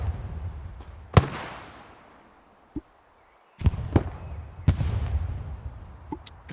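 Rocket barrage explosions in the shooter Hell Let Loose: a handful of sharp blasts with rolling, crackling tails like fireworks, spread over several seconds with a brief lull between volleys.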